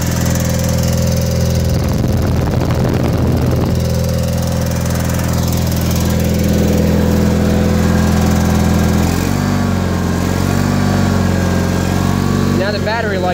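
A 1987 John Deere 316 lawn tractor engine runs loud and close with a steady mechanical drone, rising and shifting in pitch as it revs like a small farm tractor under load, with a voice talking over it.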